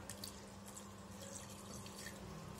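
Water runs steadily into a cooking pot, a continuous splashing flow with no talking, while preparing prawns for Malabar chatti pathiri.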